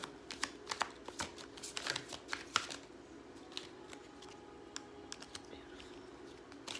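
Tarot cards are shuffled by hand in a quiet room, giving a run of close, soft riffling snaps and flicks that cluster early and then thin into scattered light taps.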